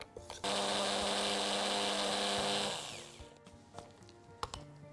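Electric grinder milling a nigella seed mixture, a sharp close whirring burst of roughly two and a half seconds that winds down, followed by faint clicks and handling noises.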